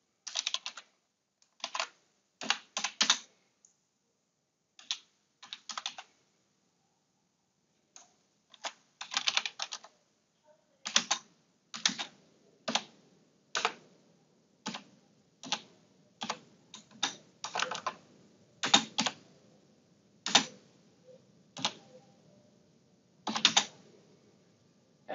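Steady clicking keystrokes on a computer keyboard, typed in uneven clusters with pauses between, close and fairly quiet with no voices.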